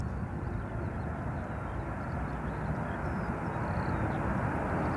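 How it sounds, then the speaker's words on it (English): Steady, loud roar of an airliner's reverse thrust as it lands at London Gatwick Airport, a dense continuous rumble that holds evenly throughout without a break and with no talk. "Nice bit of reverse thrust action. We can hear that actually."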